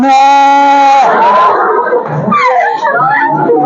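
A teacher's voice imitates a goat bleating with a loud, wavering harmonic bleat for about a second, followed by lively classroom speech and chatter.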